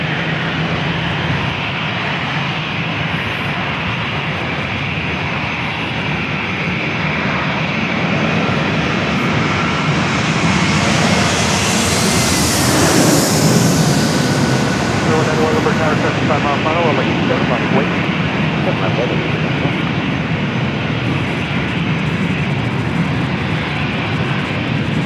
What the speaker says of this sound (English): That's the Hawaiian A321neo touching down.